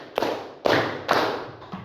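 Claps from a classroom ice-breaking clapping game ring out in a steady rhythm, four broad, loud group claps roughly half a second apart, each with a short trailing decay, and no talking over them.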